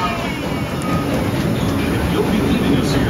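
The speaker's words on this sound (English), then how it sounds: "please remain seated until the train comes to a complete stop" The Disneyland Railroad train pulls into New Orleans Square Station, heard from on board as a steady, close rumble and rattle of the carriages on the rails.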